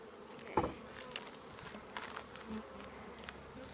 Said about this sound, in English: The bees will get to work on them and eat them up.